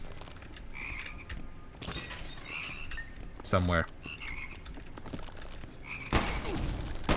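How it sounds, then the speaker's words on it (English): Frog enemies croak repeatedly in the first-person shooter game Immortal Redneck. The short, throaty croaks are scattered among sharp game effects, with one loud, rasping burst and a harsh crash near the end, and someone speaks briefly. "Oh no, more frogs."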